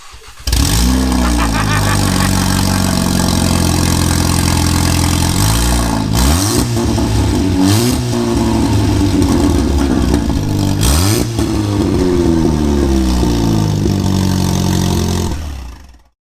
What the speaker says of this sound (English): start this car up with just a cat to see what it sounds like